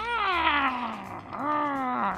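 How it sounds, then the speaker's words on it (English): A house cat gives a long, drawn-out caterwaul close up, a wavering moaning yowl that dips and then rises again in two sustained phrases. "That's the noise my cat makes."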